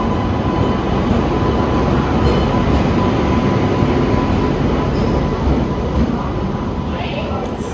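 The Mysore–Bhagalpur Basava Express rolls into a station platform, a loud, steady rumble of rail cars and wheels carrying on throughout with faint voices mixed underneath.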